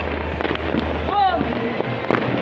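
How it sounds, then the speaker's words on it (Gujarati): Scattered firecracker pops crack at varying distances over a low hum during Vasi Uttarayan in Ahmedabad, with a brief whistling streak in the middle. "અમદાવાદમાં ફટાકડા ફૂટે છે"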